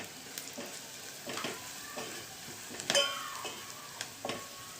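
Spices frying lightly in oil for tomato rasam give a soft, steady sizzle, broken by scattered clicks and light scrapes of a spoon against the pan, close and fairly quiet.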